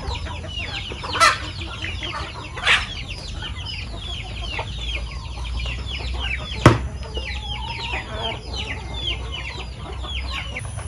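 Chickens cluck steadily nearby in a busy coop, with a few louder squawks standing out over the murmuring flock.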